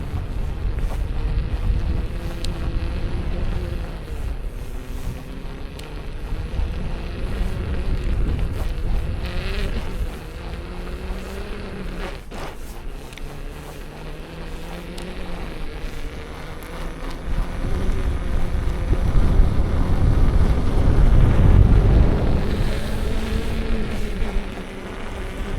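Riding the RS19 Highspeed: wind buffets the microphone in a continuous roar over a low, droning engine note that rises and falls, growing louder toward the end.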